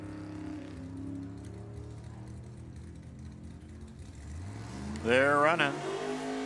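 Drag race cars launch and run at Sacramento Raceway during an ET bracket race. The engine drone climbs steadily as they pull away, with a louder close burst near the end under an announcer's voice.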